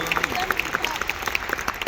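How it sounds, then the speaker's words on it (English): An audience claps for Pat Wilson of the Department of Economic Development at the Hyundai Metaplant America groundbreaking. The applause is moderate and steady, with sharp individual claps standing out over a murmur of voices. "Please give Pat a round of applause"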